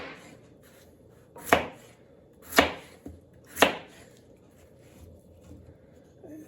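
A Dispatch DP8076-SB flipper folder with a D2 steel blade slices lengthwise through turkey, giving three sharp, evenly spaced cutting thuds close by over a quiet background, with no voices.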